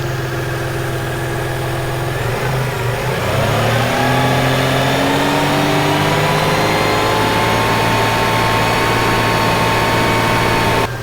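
A 1996 Toyota Tacoma engine runs steadily at idle during an AC recharge, then climbs in pitch as the revs rise and hold, loud and close with a continuous whine.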